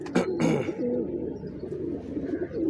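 A Lanjat breed pigeon gives a few soft, close cooing calls, rolling low notes repeated over a couple of seconds with faint background noise.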